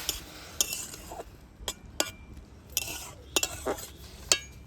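Leaves (dhoger pata) being stirred with a little water in a pan, a spoon or spatula giving repeated short scrapes and clinks against the metal, close and moderately quiet between strokes.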